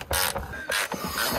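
A wrench ratchets while tightening a nut on a converted camper van, giving a couple of short, close mechanical clicking bursts separated by brief pauses, with no voices.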